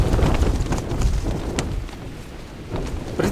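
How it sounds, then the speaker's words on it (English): Strong mountain wind gusts batter a tent in rough, loud surges of buffeting and flapping that swell and ease without pause. "it's handling an absolute hammering with wind"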